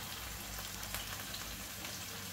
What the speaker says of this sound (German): So, jetzt tue ich anbraten.